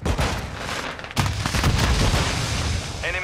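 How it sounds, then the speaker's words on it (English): Flash grenades and gunfire erupt in a loud, continuous barrage of blasts and booms in a military shooter video game, with a sharp burst near the middle and a faint voice underneath. "Throw flash grenades!"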